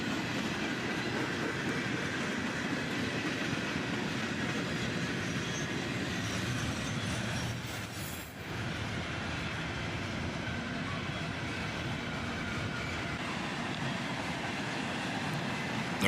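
Northbound mixed manifest freight train led by an EMD SD70MAC, rolling past steadily with continuous wheel rumble and clickety-clack, close and sustained throughout with a brief dip midway.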